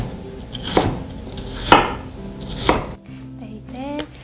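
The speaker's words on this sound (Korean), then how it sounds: "껍질과 씨를 제거한 사과를 저는 오늘 조금 씹히는 감이 있었으면 좋겠어서 1cm 정도 크기로 깍둑 썰기를 하도록 할게요" Knife dicing a peeled, cored apple into 1 cm cubes on a cutting board, three sharp, evenly spaced chops close up, followed by a quieter stretch with faint kitchen clatter.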